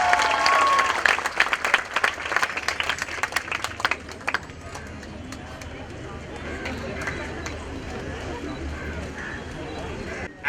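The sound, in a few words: applause for the young girl who did the portrait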